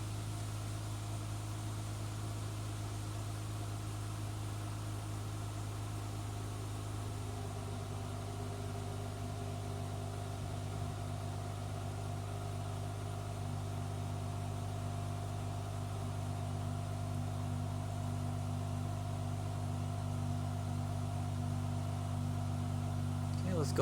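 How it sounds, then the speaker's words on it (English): A 2003 Acura CL Type-S fitted with a Comptech header idles steadily and close by, a low droning hum holding even with no revs, under a faint background hiss. "Dropping down into an idle range of about 68 to 69 decibels."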